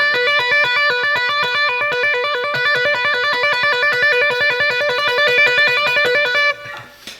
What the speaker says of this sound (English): So if I were to take off the effects, it just sounds like this.